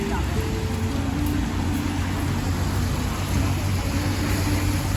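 Steady rain falls on a wet road, a dense continuous hiss with a low rumble beneath, loud and unbroken throughout.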